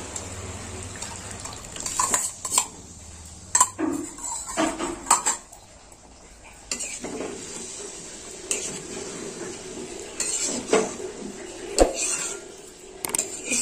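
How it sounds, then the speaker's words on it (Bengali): Tomato chicken being stirred in a pot, a spoon scraping and clinking against the metal again and again in an irregular rhythm, close and fairly loud, with a soft bubbling background. "বারবার নাড়তে হবে, তলায় যাতে না লেগে যায়।"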